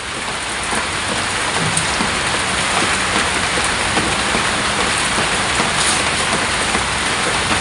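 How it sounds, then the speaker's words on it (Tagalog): Light, steady rain patters continuously on surfaces around a hut in the province, an even, unbroken hiss with no voices. "Mahina naman yung ulan"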